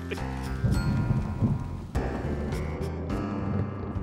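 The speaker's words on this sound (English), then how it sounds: "I hear thunder, I hear thunder." Thunder rumbles low and steady through continuous rain, with a sharp crack partway through and the downpour hissing on throughout, fairly close and loud.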